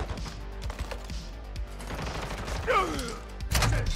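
A sentry gun is set down and deployed in Modern Warfare II, giving a short mechanical whirring and ratcheting whine amid sporadic gunfire and game noise.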